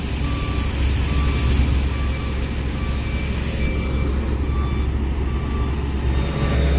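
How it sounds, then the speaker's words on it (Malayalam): A road paver creeps slowly along NH66 highway construction, its deep steady engine rumble running underneath a regular series of high reversing-style beeps. "നമ്മളെ പേവർ ഇങ്ങനെ മന്ദം കൊണ്ടുപോയിക്കൊണ്ടിരിക്കുകയാണ്"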